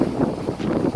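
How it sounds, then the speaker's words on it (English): Wind gusts buffet an outdoor microphone, making a steady low rumble that swells and dips for the whole second with no other sound above it. "Sorry, it's a little windy."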